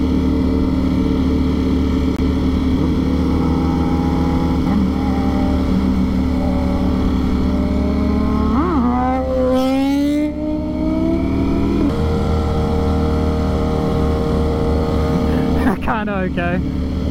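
A Ducati Streetfighter V4S motorcycle engine drones loudly and steadily while riding, with a sharp rising rev partway through as the front lifts into a wheelie.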